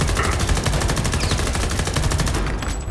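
Dense automatic gunfire in Homefront: The Revolution, a continuous loud rattle of rapid shots with heavy overlapping reports and no pause.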